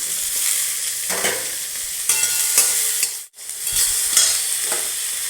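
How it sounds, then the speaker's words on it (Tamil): Steady sizzling of tomatoes sautéing in a pan with onion and garlic, with occasional stirring scrapes and a brief pause near the middle. "தக்காளி வதக்கிக்கலாம்."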